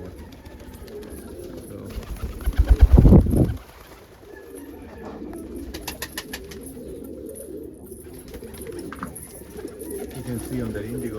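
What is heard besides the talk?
pigeons cooing in a loft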